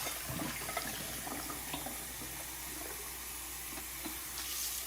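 Tap water runs in a sink to rinse developed photographic film, a soft continuous hiss and trickle with small splashes, fairly quiet and alone.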